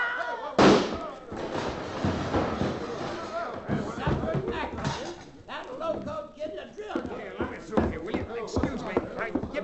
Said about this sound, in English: Duke, who plugged Tim? I did